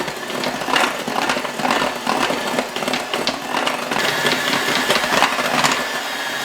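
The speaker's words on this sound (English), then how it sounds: "we'll use our mixer and start combining this together" Electric mixer combining chocolate almond crackle cookie dough, a steady close whirring motor with a dense, continuous mechanical buzz that holds throughout, with no talking.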